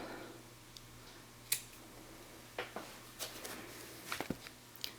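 Scissors snip through the end of crochet yarn in a handful of short, sharp clicks spread irregularly across an otherwise quiet, close-up moment, with a light cluster of snips near the end.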